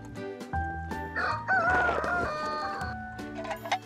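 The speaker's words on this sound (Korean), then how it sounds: "닭장을 터는데요." Chickens in a farmyard coop in a Korean village below Mount Baekdu, where roosters crow loudly and hens give several close, overlapping calls and clucks; no voices.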